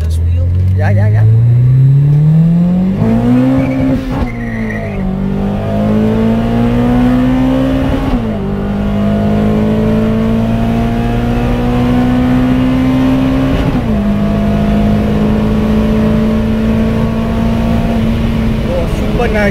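A car with an SR20VE engine accelerating hard with VVL engaged, its loud close exhaust note climbing through the revs and dropping at several gear shifts, with people talking in the cabin.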